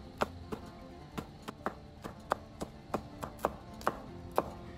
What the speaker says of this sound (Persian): بهتر موقع خرد کردن فلفل دستکش دستتون کنید.